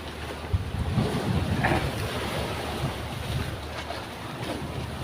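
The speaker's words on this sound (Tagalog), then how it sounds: "Ang lalaki ng pabugso-bugsong alon." Big, rough sea waves churn under strong gusting wind during a storm, with a boat out on the water; the dense, loud roar of surf and wind buffeting the microphone runs continuously throughout, with no voices.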